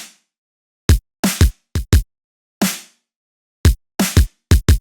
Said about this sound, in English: So the snare in this intro is playing half the time.